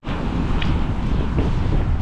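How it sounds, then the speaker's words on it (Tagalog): Strong wind roars and buffets the microphone in a constant, loud rumble near big waves, with a faint hint of water beneath it. "lakas ng hangin. Tsaka hangin pa ng alon."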